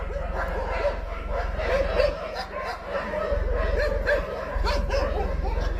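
A group of dogs in Ethiopia barks and yips repeatedly, with some whimpering, against a constant low hum, while a person talks faintly underneath.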